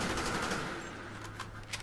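Rapid gunfire from the video game Call of Duty Black Ops, a dense continuous burst of automatic shots that stays fairly loud through the whole short stretch, with no talking over it.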